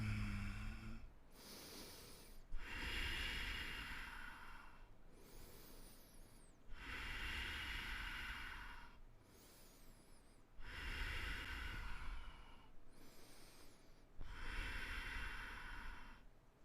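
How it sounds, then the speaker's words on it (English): Slow, deep breaths in and out through the nose while holding a forearm plank, about four long hissing exhale-and-inhale cycles spaced a few seconds apart, close and faint, with no talking. "breathing in through the nose and breathing out through the nose for 1"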